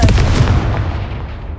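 A loud, close blast from the Confringo fire spell in Hogwarts Legacy, a heavy booming explosion that rumbles and fades away over about a second, with no talking.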